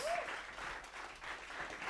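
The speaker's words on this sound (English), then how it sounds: "Give a round of applause." Audience applause after a startup pitch at the AfricArena Southern African Summit in Johannesburg, steady clapping from a room of people with a voice briefly over it.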